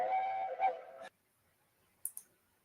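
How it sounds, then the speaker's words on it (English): A toy Thomas the Tank Engine train whistle gives one steady, bright toot lasting about a second, followed by silence and two faint clicks. "there's Thomas's whistle here, like the whistle we all know and love"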